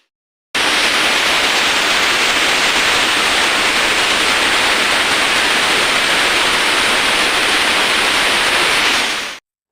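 Pressure cooker on a home stove giving off a steady, loud hiss of steam that runs nearly unbroken for about nine seconds, then cuts off, with no talk over it.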